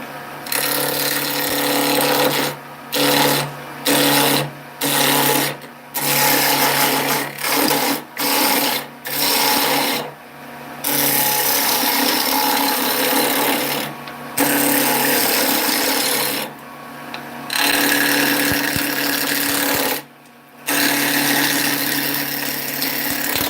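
Wood lathe spinning blanks for tops, a loud continuous whirring hum broken by repeated short stops and restarts, running alone without talk.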